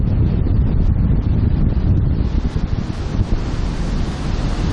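Wind blows hard outdoors at sunset, a steady loud roaring rush buffeting the microphone for the whole stretch, with no talking.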